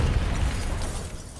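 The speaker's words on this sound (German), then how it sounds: "Sie explodieren gleich." Robots explode in the Call of Duty: Black Ops 3 video game, a loud, dense burst of booming noise that rumbles for over a second and slowly eases off.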